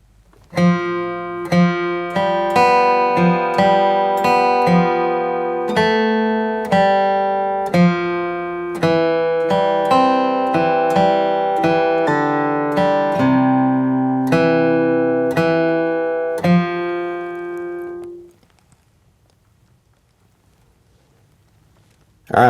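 A crisp crosspicked guitar melody from "Banks of the Ohio" plays alone, steady plucked notes in a lively rhythm, ringing clearly up close before stopping and leaving near silence.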